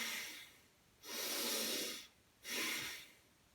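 Two deep, audible breaths drawn and pushed out during an up-and-down exercise movement, each a long airy rush about a second long with a short quiet gap between, close and alone.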